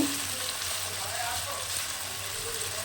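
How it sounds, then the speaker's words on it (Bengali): Fried rice with carrots and beans being gently mixed in a pan, a steady soft sizzle with faint light scraping and shuffling of the spoon, close and continuous. "সেই ভাতটা দিয়ে দিলাম ঝুড়িতে আলতো হাতে সব মিশিয়ে দেব"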